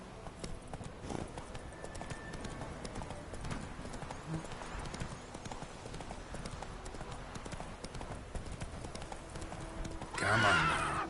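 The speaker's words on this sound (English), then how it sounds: "Whoa there, Roach." Horse hooves clip-clop steadily at a walk in the Witcher 3 video game, with a brief whinny and louder rustle near the end.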